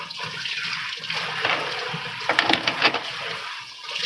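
Water running from a hose during rinsing while cleaning, a close steady rush with some louder splashing bursts partway through, no talking.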